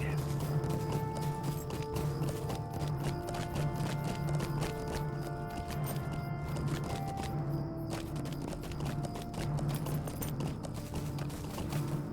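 Rhythmic clip-clop of a horse's hooves at a steady trot in the video game The Lord of the Rings Online, continuous over ambient background tones and a low hum.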